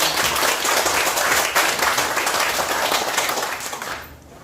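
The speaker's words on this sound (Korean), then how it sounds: "여러분 여기에 부모님과 선생님과 친구들 학부모님께 박수 한번 보내주십시오" Applause from an audience of parents, teachers, friends and schoolchildren during a talk, a dense steady wash of clapping that fades toward the end.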